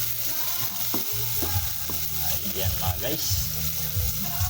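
Onion and garlic sautéing in a pan, a steady close sizzle with scraping stirs from a utensil, while someone talks briefly over the cooking.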